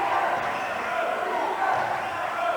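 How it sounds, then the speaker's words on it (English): A home crowd at St. Mary's of Jersey City chants for defense during a 1989 high school boys basketball game against Hudson Catholic, a steady, rumbling roar of many voices filling the gym throughout. "You can hear the St. Mary's crowd chanting defense"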